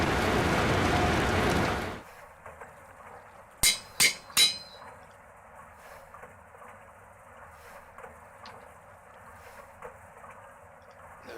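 A forge hammer machine in Minecraft GTNH pounds ore: a loud noisy burst, then three sharp metallic strikes in quick succession, followed by a low machine hum with faint ticks. No one speaks.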